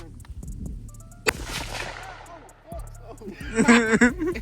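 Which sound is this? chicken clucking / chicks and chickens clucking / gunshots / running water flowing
gunshots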